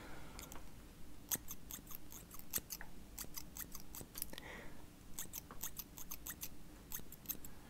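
Scissors snipping hair during a haircut, quick bursts of crisp metallic clicks in uneven rhythm, close and soft, with short gaps between runs of cuts.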